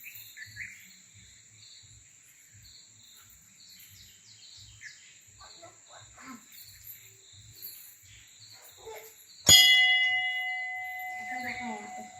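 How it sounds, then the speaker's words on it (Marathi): A single loud strike of a Hanuman temple bell rings out with a sharp attack and a long, shimmering decay, following quiet chirping birds and insects in a Konkan village. "घंटी वाजवायची"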